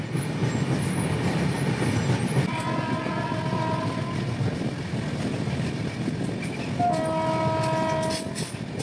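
Darjeeling Mail passenger train crossing the long Farakka Barrage, a steady loud rumble of wheels and carriages throughout, with two sustained horn blasts, one midway and another near the end.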